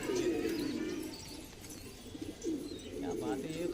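High-flyer pigeons coo in low, throaty repeated calls nearby, a steady cooing chorus with other faint bird sounds, while people talk over it.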